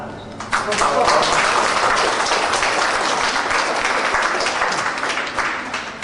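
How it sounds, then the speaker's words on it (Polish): An indoor audience at a young photographers' exhibition at Aquapark Suwałki breaks into sustained applause, a dense, steady wash of clapping that swells quickly and carries on for several seconds before tapering slightly. "żebyście państwo ich brawami przywitali"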